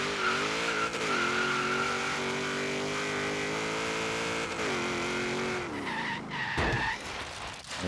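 A 1993 Ford SVT Cobra R Foxbody in Forza Horizon 3 pulls away in first gear, its engine note holding steady and rising through the gear with tire squeal near the end, loud and close, with no talk.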